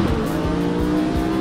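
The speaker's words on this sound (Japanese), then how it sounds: "独特ですよね、排気音が。" A Mercedes GT1 race car in the racing game Project CARS 3 gives off a loud, steady exhaust drone with a strong buzzing tone, held at near-constant revs throughout, with no talking.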